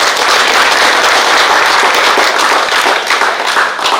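Loud, dense applause from an audience at a road safety week event in Mangaluru, steady close clapping filling the space throughout.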